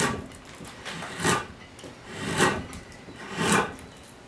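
Knife slicing and skewing across wood while carving a bevel on the underside of a chair seat, steady close scraping with three stronger strokes at a slow, even rhythm, no voices.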